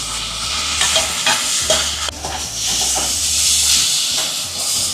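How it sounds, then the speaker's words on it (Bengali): Eggplant frying in a pan with fenugreek greens, stirred with a utensil: steady loud hiss and sizzle with repeated scraping strokes, close up, no talking. "এবার ভেজে রাখা বেগুনটা দিয়ে দিচ্ছি"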